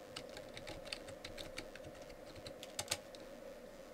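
Rapid, quiet keystrokes patter on a computer keyboard in an irregular stream under a faint steady hum, with no speech.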